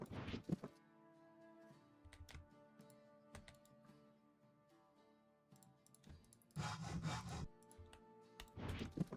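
Sawing in Gregtech, the Minecraft mod, while steel screws are being crafted: a sustained tonal hum with short rasping saw bursts around the start, middle and end, without speech.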